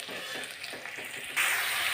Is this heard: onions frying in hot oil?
yes